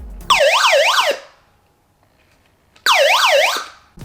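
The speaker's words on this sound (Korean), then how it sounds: "SOS 이제 그 알람이거든요" Hand-crank emergency radio sounding its SOS alarm: two loud, close bursts of a rapidly warbling electronic siren, separated by a short silent gap.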